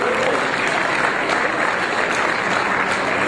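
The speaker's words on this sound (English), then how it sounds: "let's give a round of applause for Andreas Economo" A dinner audience at an expo awards event gives a steady, dense round of applause for an honoree. The sustained clapping stays loud and even throughout.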